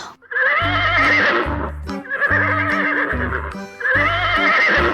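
A brown horse in a balloon-popping toy game whinnies three times in a row, each loud, close neigh rising and trailing off over short low musical tones.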